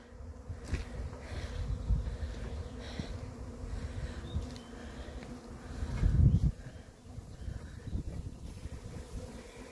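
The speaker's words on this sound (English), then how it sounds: "this is now the swarm coming in" Large swarm of honeybees arriving at a bee house in winter, a steady low buzzing hum throughout with wind noise on the microphone, swelling louder briefly midway.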